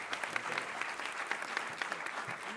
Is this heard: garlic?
no